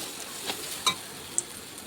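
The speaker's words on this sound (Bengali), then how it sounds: "আমি এখন মশলাটাকে ভালো করে কষিয়ে নিয়েছি" Spice paste with yogurt sautéed in oil for a catla fish curry makes a soft, steady sizzle close by, with a couple of brief stirring clicks and no voices.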